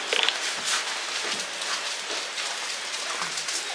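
Steady rain patters and hisses on surfaces nearby in Samoa, with scattered louder drops and a faint bird chirp early on.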